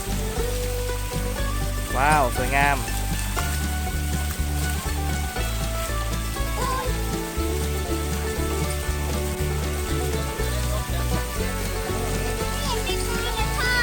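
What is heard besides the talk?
garden waterfall with water wheel running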